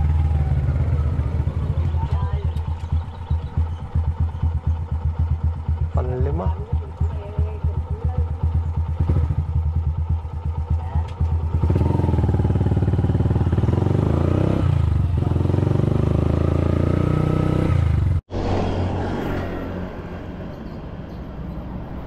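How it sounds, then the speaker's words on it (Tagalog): Motorized tricycles pass in a steady stream along a wet city street, engines buzzing and clattering up close, with a brief voice over the traffic and a sharp dropout near the end. "Grabe, ang daming tricycle"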